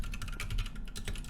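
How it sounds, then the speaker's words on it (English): Rapid, uneven clatter of keys on a computer keyboard, close and moderately loud, with bursts of keystrokes and short pauses, no voice over it. "Oh, sorry about my typing."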